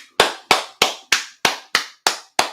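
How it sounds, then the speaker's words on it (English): Sharp, single hand claps ring out at an even pace, eight in all, each with a short decay, close and loud in a quiet room during a live watch-along of the Champions League final. "Defo gonna clap for Bellingham."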